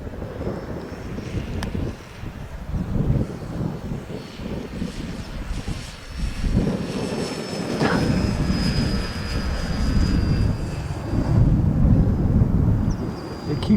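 An FMS FW 190 radio-controlled model plane drones overhead on a windy day, its faint engine note rising and falling under heavy wind buffeting, with some background voices.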